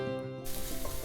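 Onion hits a hot pan for a spaghetti alle vongole sauté, a sudden loud hiss bursting in partway through and holding as a bright, steady sizzle close by.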